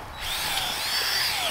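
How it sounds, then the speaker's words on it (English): A power drill bores holes into garden soil for planting tulip bulbs, giving a steady, loud whirring whine that runs unbroken through the whole moment with no talking. "so I'm using my drill."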